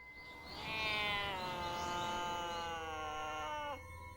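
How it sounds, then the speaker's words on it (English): A drawn-out, eerie cat cry from the Ju-On horror film rises, wavers and holds for several seconds before cutting off abruptly, standing alone over a faint background. "We then hear Kayako's death rattle and Toshio's cat cry."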